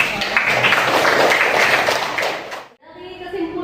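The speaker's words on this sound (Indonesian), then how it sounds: "Tepuk tangan dulu." A classroom full of students claps steadily for a few seconds, the applause cutting off abruptly before a voice begins speaking.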